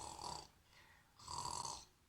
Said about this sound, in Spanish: ¿Qué hacemos para que perro deje de roncar?